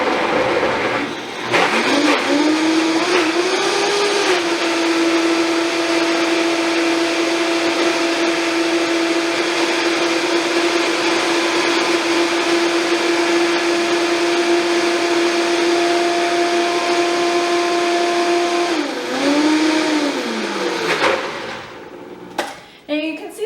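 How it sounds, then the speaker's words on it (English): A blender whirs steadily for about twenty seconds as vegan cheese sauce of nutritional yeast is blended, loud and close, starting and stopping with brief speed changes. "we're just going to simply close the lid and blend her up"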